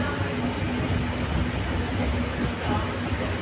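A train rolls slowly along with a steady, low rumbling interior hum and faint rhythmic rattle, continuous and moderately quiet throughout.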